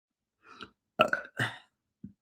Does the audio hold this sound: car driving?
no